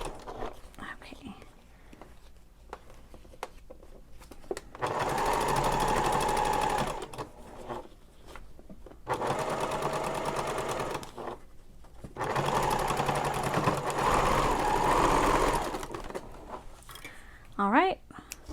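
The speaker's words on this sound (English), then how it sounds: "going to sew right back along this seam" A sewing machine stitches back along the exterior side seam of a messenger bag purse in three sustained runs, with quiet pauses and soft handling sounds between them.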